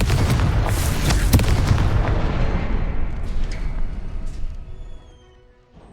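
A Confringo fire spell explodes in the Hogwarts Legacy video game: a heavy, booming blast with a sharp crack, then a rumbling tail that decays over several seconds into near silence.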